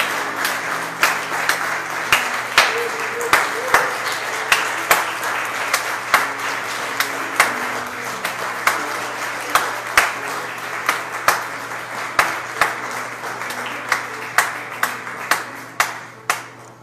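Church congregation clapping together in a steady, rhythmic beat, with crisp regular claps repeating throughout a long stretch under a faint hum of the room.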